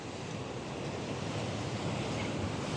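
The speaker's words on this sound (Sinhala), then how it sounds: "ඒත් එක්කම පහලින් සුදු පාටට පෙන දාන මුහුද" Sea foaming white against the rocks below an island shore at Blue Beach Island, Sri Lanka, a steady continuous surf roar with wind noise, heard alone with no talking.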